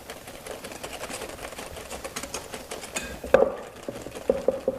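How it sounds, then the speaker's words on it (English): A whisk beats plain flour into a chocolate fondant mixture in a bowl, making fast, even rattling strokes up close, followed by a few clinks and taps on the bowl. "Whisk that in."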